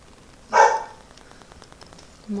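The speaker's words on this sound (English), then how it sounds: "You'll hear them probably bark a lot in the background" A single dog bark in the background of a home setting, fairly loud and brief, followed by faint tapping and a quiet room.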